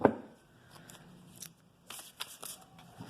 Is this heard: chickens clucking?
no